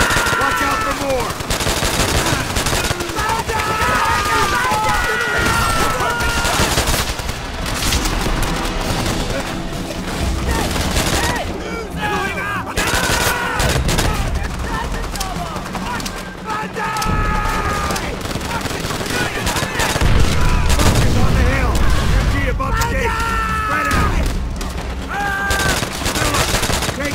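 Japanese machine gun fire in Call of Duty: World at War, sustained loud rattling bursts with explosions and battle noise throughout, while voices shout over the chaos.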